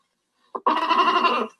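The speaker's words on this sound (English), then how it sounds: "Listen to that poor goat." A goat gives one short bleat: a brief sound, a tiny break, then a longer wavering cry lasting about a second, close and clear against silence.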